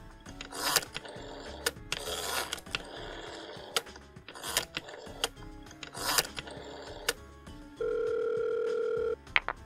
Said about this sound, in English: began dialing his rotary phone